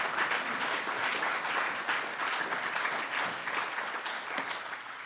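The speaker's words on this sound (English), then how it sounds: "give them just a round of applause" A round of applause from a convention audience at a Marijuana Anonymous gathering in San Diego, sustained dense clapping from a large crowd that holds steady and tapers slightly at the end.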